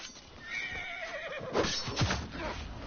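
A horse whinnies in a rising, wavering call over busy game noise, followed by thuds and scuffling.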